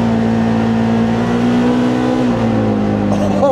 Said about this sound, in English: here's my first time taking off in a turbo Xpedition